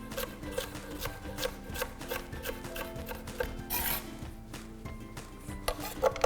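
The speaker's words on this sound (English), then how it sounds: "Now I turn this into a brunoise by simply cutting across again." Knife cutting julienned red pepper across into brunoise on a board, a quick steady run of light chopping taps with faint clatter, close and clear.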